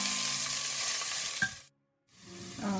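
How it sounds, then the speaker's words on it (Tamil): Sliced onions sizzle loudly in hot oil in a pan for pumpkin sambar, a steady frying hiss with a light stirring clatter, then a brief silence before the sizzle resumes. "ஒரு ஆனியன் எடுத்து இந்த மாதிரி ஸ்லைசஸாக கட் பண்ணிக்கணும். கட் பண்ணி இதை வந்து நான் வதக்கிக்கிறேன்"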